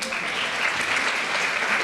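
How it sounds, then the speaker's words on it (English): An audience claps and cheers steadily throughout, dense applause from a crowd in a hall at a middle school promotion ceremony. "Hold the applause,"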